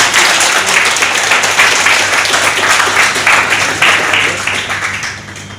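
Audience applause at a local political gathering honouring an outgoing regional party president, dense sustained clapping from a large crowd that holds steady for several seconds before tapering off near the end.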